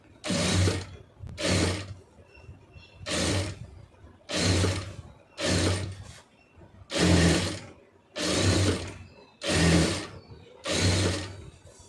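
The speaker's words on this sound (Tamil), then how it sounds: "இந்த கலரு துணியை இழுக்காமல் கரெக்டாக எடுத்து விட்டு தச்சுட்டு வந்துடுங்க" A sewing machine stitches fabric piping in about nine loud, close bursts of rapid mechanical whirring, each lasting under a second and separated by short quiet gaps as the fabric is repositioned.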